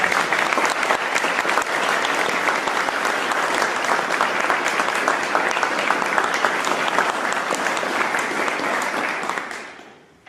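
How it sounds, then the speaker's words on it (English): Audience applause at a university faculty music recital, dense sustained clapping from a full hall that holds steady, then fades out quickly at the end. "So please give another round of applause"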